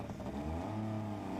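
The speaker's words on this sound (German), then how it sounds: "So fährt man richtig an, mit einem Minimum an Gas." A car pulls away uphill in snow on minimal throttle, its engine humming low and steady with a gentle rise in pitch, close and continuous, no voices.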